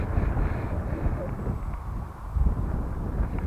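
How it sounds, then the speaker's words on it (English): Steady wind buffeting a microphone, a low rumbling roar that swells and dips slightly throughout, with no voices. "It's a bit too windy for it."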